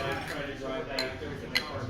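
Glasses clink together in a toast, a couple of short bright chinks heard close amid ambient room noise and background chatter.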